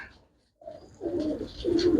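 Pigeons kept for sale coo softly and nearby, a brief hush giving way to two or three rolling throaty coos that grow a little louder.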